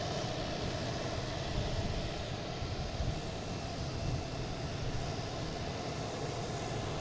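An American jet taking off on runway 9 at Boston Logan, bound for LaGuardia, heard as a steady, broad engine roar that holds at an even level throughout, distant rather than close, with no talking.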